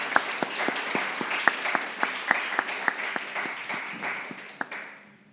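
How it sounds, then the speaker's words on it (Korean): A church congregation claps for one another, a sustained wash of many hands with distinct sharp claps standing out, steady for several seconds before trailing off. "우리 한번 이 시간에 서로에게 박수해 주시면"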